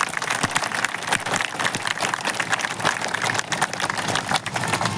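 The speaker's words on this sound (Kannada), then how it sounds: "ಒಂದ್ಸಾರಿ ಜೋರಾದ ಚಪ್ಪಾಳೆ ಬರಲಿ ನಮಗೆ" Loud, sustained applause from a crowd at a farmers' protest in Vijayapura, with dense clapping and a few cheers continuing steadily throughout.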